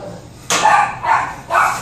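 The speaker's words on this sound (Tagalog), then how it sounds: "Ito na kami yung aso. Nagtago. Tara, yung chow-chow nila." A chow-chow dog barks three times in a quick series, each bark loud and close, with short pauses between and no talking over it.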